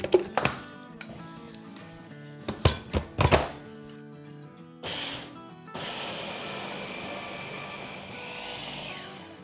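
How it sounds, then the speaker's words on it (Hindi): A mixer grinder whirs in loud bursts while grinding soaked, strained chana dal, with several short pulses and knocks followed by a steady, sustained grinding run. "पीसना शुरू करते हैं।"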